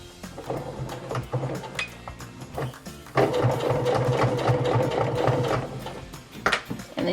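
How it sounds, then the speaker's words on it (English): A sewing machine runs along a crease, stitching elastic into a Lalabye baby carrier: a short burst of whirring first, then after a brief pause a longer, loud, steady mechanical run close by. "And then you want to sew in that crease from where you took the thread out."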